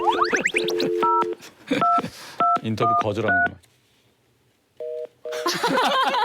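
A telephone is dialed with a rapid string of beeping touch-tone keys, then after a brief quiet pause a couple more tones sound. Voices talk around the dialing.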